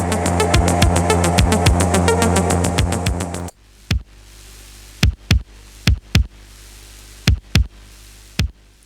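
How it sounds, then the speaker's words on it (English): Roland 707 drum machine hits run through a Universal Audio valve compressor: a dense beat over the full mix, then bare punchy drum hits alone in an irregular pattern over a low steady hiss. "I tried tracking it through a valve compressor that I have, like a universal audio valve compressor"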